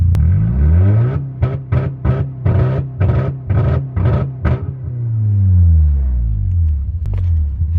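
A jump-started Honda Civic with a freshly welded new exhaust fires up and runs loud and close, blipped through a rapid series of revs before settling into a deep, droning idle.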